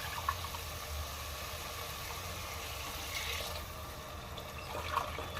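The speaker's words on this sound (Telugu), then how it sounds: "ఇప్పుడు మనం వాటర్ పోసుకుందాము" Water pours steadily into a cooking pot for vegetable biryani, a continuous rushing splash at moderate level with no talking.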